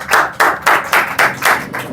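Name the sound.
audience applause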